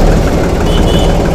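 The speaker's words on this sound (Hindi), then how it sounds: "तो चलिए ट्रैक्टर को स्टार्ट करके आपको इसका आवाज़ सुना देते हैं" A 50hp tractor engine runs close by with a loud, continuous low rumble and vibration, heard alone and without a break for just over a second.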